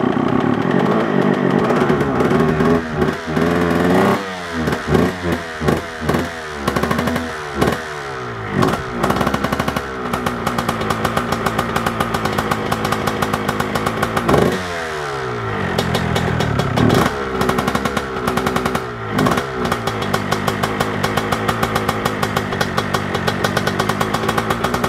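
A Honda CR 125 motorcycle engine that hasn't run in a while sputters, catches and starts, then revs loudly and repeatedly in ragged bursts with popping between them, running up close for the whole stretch.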